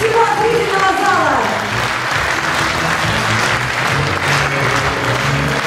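Large auditorium audience at the UGA-2020 closing ceremony breaks into loud, sustained applause that fills the hall after a brief voice at the start.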